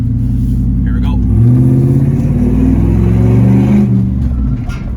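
Car fitted with long tube headers revs loudly during a close street flyby in Pasadena, its exhaust note rising and swelling then easing off, with some talking underneath.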